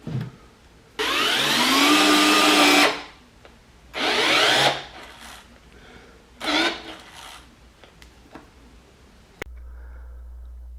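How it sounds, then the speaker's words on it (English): Cordless compact power drill in screwdriver mode with automatic torque shutoff, driving a screw into wood: three separate whirring runs, the first long and steady, the second and third shorter, each stopping abruptly, then quiet. "it will automatically halt the drill when the screw is fully tightened"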